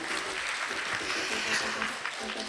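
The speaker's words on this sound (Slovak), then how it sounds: "veľký potlesk poprosím pre ľudí, ktorí sú teraz vzadu pripravení" Audience applause at a cosplay theatre show, a dense steady wash of clapping filling the whole moment, with voices mixed into the crowd noise.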